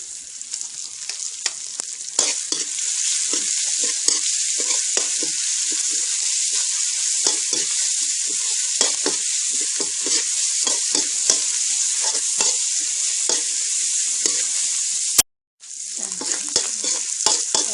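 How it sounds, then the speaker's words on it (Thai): Beef is stir-fried in a hot pan for Thai basil beef, with a loud, continuous close sizzle and frequent scraping spatula strokes, briefly cut off near the end before resuming. "แล้วก็เนื้อลงไปผัด"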